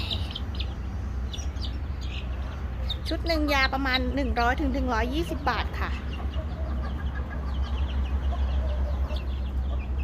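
Chicks and chickens cheep and cluck around a farm chick-vaccination session, with one loud run of rising chirps mid-clip over a steady low hum, while someone talks throughout.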